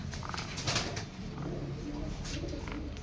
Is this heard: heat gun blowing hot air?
no